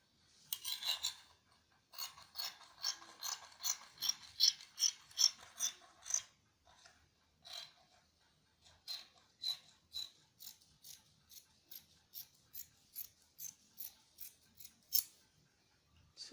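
Scissors cut fabric for an off-shoulder wrap top in repeated crisp snips close by, coming in quick bursts with brief pauses and no talking.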